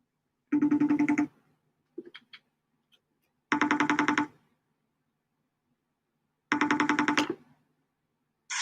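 Outgoing phone call ringback tone, three distinct rings of about a second each separated by long silent gaps, fairly faint and with no one talking over them.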